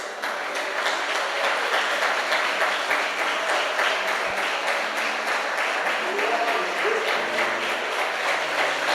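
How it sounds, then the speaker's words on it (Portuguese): Steady applause from a church congregation at an anniversary service, dense continuous clapping from many hands filling the whole stretch at even loudness, with faint voices mixed in. "Vamos aplaudir a Jesus por isso."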